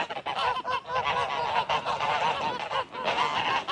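Geese honk and call repeatedly near the listener, a mother goose with her newly hatched goslings, the honks overlapping in a busy, continuous stream with brief pauses.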